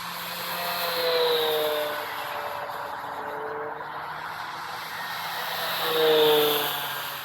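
An E-Flite Air Tractor RC plane's electric motor on a 4S battery runs at full throttle, a buzzing whine that swells as it passes close around one second and again near six seconds, fading between.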